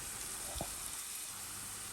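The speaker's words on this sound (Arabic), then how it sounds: "من بعد ما تشحرت هاد البصيله هذه مزيان بالزيت المائده والمليحه" Chopped onion fries in table oil with a faint, steady sizzle and a brief soft bump partway through, quiet and continuous with no voices.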